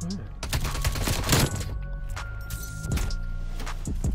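Gunfire crackles through a match of the video game Black Ops Cold War in rapid bursts and scattered shots, loud and close, with harsher clusters early on and more bursts near the end, under game ambience.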